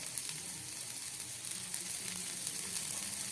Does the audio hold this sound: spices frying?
yes